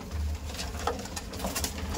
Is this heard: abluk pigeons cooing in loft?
yes